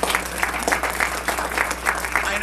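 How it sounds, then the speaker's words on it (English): An audience at an Asian American and Pacific Islander economic summit in Chicago claps in a brief, dense burst of applause from many hands, steady and fairly close. "can you give a big round of applause to Crystal and all the staff and leadership"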